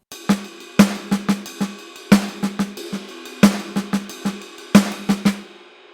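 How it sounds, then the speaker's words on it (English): A paradiddle drum rudiment played between ride cymbal and snare, four groups of crisp strikes in a steady sticking pattern, close and clear with no talking. "a paradiddle, let's say between the ride and the snare, is going to sound like this."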